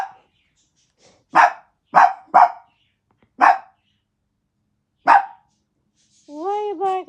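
A dog barks five sharp, loud, close barks spaced unevenly over several seconds, then gives a drawn-out, wavering whine at the end.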